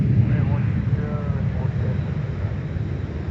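At MSP airport, a jet on takeoff roll from runway 4 gives a steady, loud low rumble of engine roar mixed with wind noise, while a voice talks over it.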